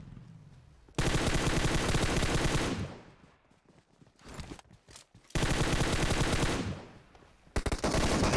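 Automatic gunfire in the BGMI battle royale game rattles out in two long, loud sustained bursts with a quieter gap of scattered shots between them, and a third burst starts at the end.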